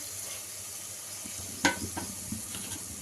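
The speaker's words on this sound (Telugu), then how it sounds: "ఈ దోసకాయ ముక్కలు తీసుకెళ్ళి ఇప్పుడు ఒకసారి ఇలా కలిపేసుకునేసి" Cucumber pieces stirred into tomato pulp in a pan for a Telangana-style cucumber curry give a soft, steady sizzle, with one sharp clack of the utensil and a few light scraping stirs after it.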